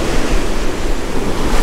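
Steady roar of surf on Sanibel beach, broadband and continuous with gentle swells in loudness, mixed with wind buffeting the microphone and no voices.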